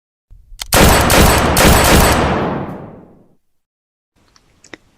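Loud burst of rapid video game gunfire, a dense automatic volley lasting about two and a half seconds and trailing off, followed by a few faint clicks and a small metallic tap.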